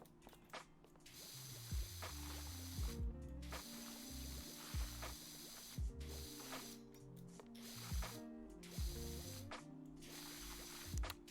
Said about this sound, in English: Now we will get the wood cleaner and just try to hose down as much of this as possible.